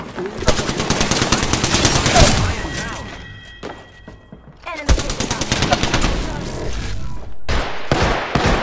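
Gunfire in Apex Legends: rapid automatic bursts and heavy thumping shots, loud and close, with a short lull before the shooting resumes, under voices and game callouts.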